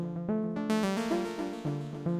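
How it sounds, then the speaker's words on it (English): A synth line plays with a Grand Canyon delay added for a melodic house track. Its short plucked notes sound in a stepping pattern, and faint repeats trail behind each one. "So now I'm adding the delay."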